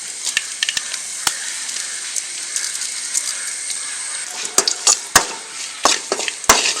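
Mustard seeds, fenugreek and dried red chillies sizzle in hot oil for Kerala-style puli inji, a steady close hiss broken by sharp popping crackles that grow more frequent and louder toward the end.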